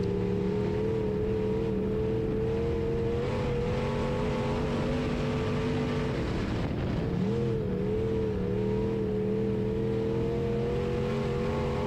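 Steady, loud engine roar from a B Mod race car lapping at Springfield Raceway in Missouri, its fresh motor low on compression. A brief lift and dip in pitch midway, then the drone resumes.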